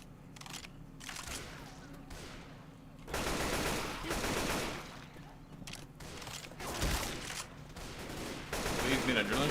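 Rapid bursts of gunfire from a first-person shooter video game, with heavy volleys rattling in waves and growing louder toward the end, while a voice talks intermittently over the action.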